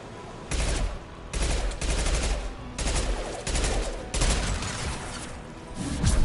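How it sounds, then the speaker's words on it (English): Gunfire in Mass Effect 2 comes as repeated loud, dense bursts with short pauses between them, a sustained fusillade with no talking. "Firing an impact shot!"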